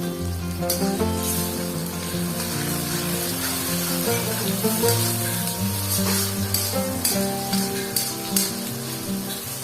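Chopped tomatoes fry with lightly browned, translucent onions in a pan for a capsicum and potato curry, giving a continuous close sizzle with occasional stirring under steady background music.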